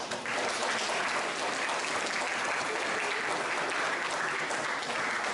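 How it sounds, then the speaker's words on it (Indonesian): Sustained applause from an audience at a school discussion on democracy, steady and dense for the whole stretch with no pauses. "Tepukan."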